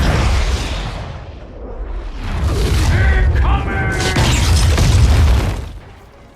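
Horde catapults firing in a modded World of Warcraft battle, heard as a series of deep booming blasts and bursts with whooshing effects. The impacts are loud and close, and a voice speaks over them.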